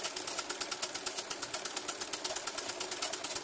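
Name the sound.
sewing machine run-stitching embroidery with green thread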